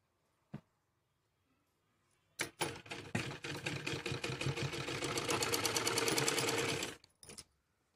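A sewing machine stitches the leg of a Patiala salwar in one sustained run of fast, rhythmic needle clatter lasting about four seconds. A sharp click comes before it and a brief tap follows it.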